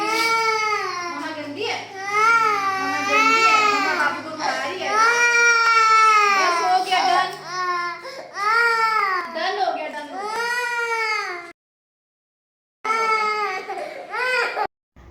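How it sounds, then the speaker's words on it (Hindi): A young boy cries loudly during a haircut, with long wailing sobs and whimpers in repeated bursts, close to the listener, broken by a brief silence before the crying resumes. "बहुत रोता है, इतना रोता है कि मुझे घबराहट शुरू हो जाती है"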